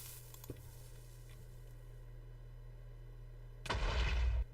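A single loud, rumbling Minecraft TNT blast bursts in near the end after a stretch of low steady hum, with a broad, booming game-style explosion sound.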